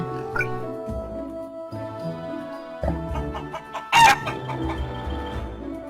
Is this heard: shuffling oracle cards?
no